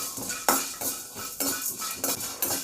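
Cinnamon sticks, four or five cloves and a small piece of coconut are lightly roasted in a pan for an Andhra-style ridge gourd curry, with a spoon scraping and clinking against the metal in short repeated strokes, close and fairly loud.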